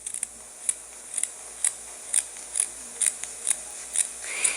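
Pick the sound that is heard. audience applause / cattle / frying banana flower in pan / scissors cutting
scissors cutting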